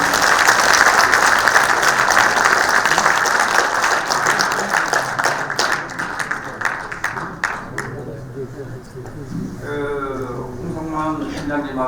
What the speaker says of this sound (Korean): 그럴 때 박수 한번 주세요